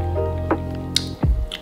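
Water poured noisily into at-home cold brew coffee: short splashes and gurgling drips with a rising pour sound, close and brief, no talking over it.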